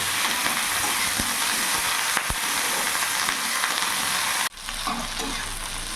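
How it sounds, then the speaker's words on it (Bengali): Okra fries in a pan over a low gas flame with a loud, steady sizzle and occasional stirring taps; the sizzle briefly drops off near the end, then resumes. "ভেন্ডি দিয়ে দু তিন মিনিট আমি একটু ভাজা ভাজা করে নেবো"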